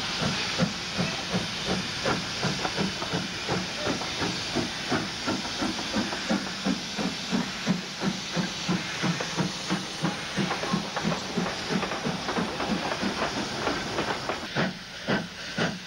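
A Romanian Series 231 Pacific steam locomotive, built by Henschel in 1922, chuffs in a steady rhythmic beat, each exhaust bursting with hissing steam, loud and continuous throughout.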